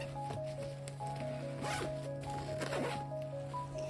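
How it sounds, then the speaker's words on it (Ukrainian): The expansion zipper on a school backpack is pulled open in several short, close, raspy strokes over a steady low hum. "Є ось така змійка, яка сприяє розширенню рюкзака."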